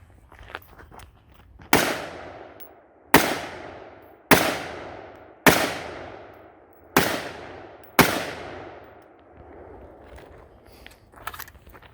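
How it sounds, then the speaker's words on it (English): Six sharp gunshots fired one by one into Guard Dog body armor plates during outdoor testing, each a loud close crack with a short decaying ring, spaced about a second or more apart. "So we're gonna put 2 rounds in each plate here with this guy and just kind of see what we got."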